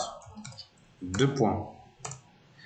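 Computer keyboard clicks from typing in a code editor, a few quick keystroke bursts mixed with someone speaking French over them.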